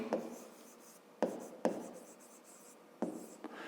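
Pen writing on paper while working a fifth-grade math exercise, close scratchy strokes with several sharp taps as the pen touches down, steady and fairly quiet.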